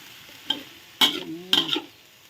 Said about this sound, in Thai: ผัดให้มันยุบจ้ะให้ผักยุบจักน้อย